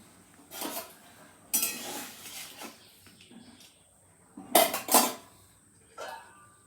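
A metal lid is handled and set on a pot of tomatoes boiling in salted water. Several separate clinks and rattles of metal cookware sound close by, with quiet gaps between them.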